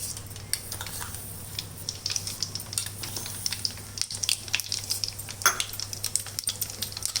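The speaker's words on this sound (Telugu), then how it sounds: "స్టవ్ బంద్ చేసుకున్నాక ఒక 4 స్పూన్ల ఆవాలు వేసుకుందాం" Mustard seeds drop into hot oil for mango pickle with the stove switched off, giving a faint crackle and sizzle with scattered pops and light spoon clinks and no talking.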